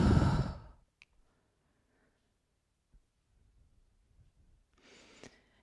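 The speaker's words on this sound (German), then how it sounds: "And then I can exhale to balance." A person exhales hard to hold their balance during a barefoot exercise: one strong, close breath out at the start, then near silence, and a softer breath near the end.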